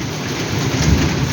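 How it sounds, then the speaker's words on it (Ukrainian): Heavy rain pours down steadily in a dense hiss while thunder rumbles low underneath, loud and continuous, with no voices. "Дощ лупить"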